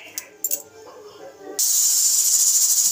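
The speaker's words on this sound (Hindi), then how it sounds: "दो सीटी आ गई है" A loud, continuous high-pitched hissing whistle of steam from a pressure cooker cooking pav bhaji bursts in after some clattering kitchen sounds, sustained and steady.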